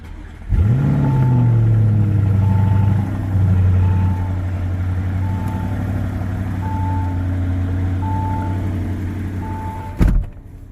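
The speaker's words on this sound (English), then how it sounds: "To start the vehicle, you put your foot on the brake pedal and then press the button to start." A 2021 Lamborghini Urus SUV engine cranks on push-button start and fires up with a quick rev, then settles into a steady idle while a soft chime repeats in the background.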